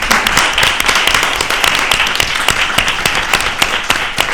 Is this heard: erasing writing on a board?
no